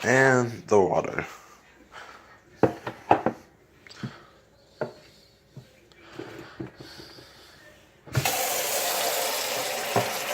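A dog's bowl fills from a tap, a steady loud rush of running water that starts abruptly near the end after scattered handling knocks and voices talking.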